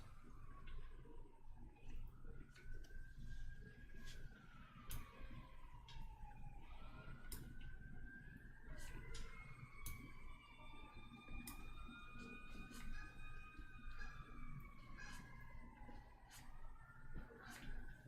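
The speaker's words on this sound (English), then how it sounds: "Sorry for the sirens." Distant sirens wail and overlap, rising and falling steadily over a constant low rumble, with faint ticking clicks throughout.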